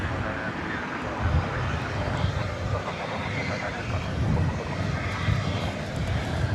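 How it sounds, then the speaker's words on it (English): An Airbus A321 airliner on a runway at DFW Airport at night gives a steady, broad engine roar that holds level throughout and stays fairly close and moderately loud. "2747 from San Diego, an Airbus A321."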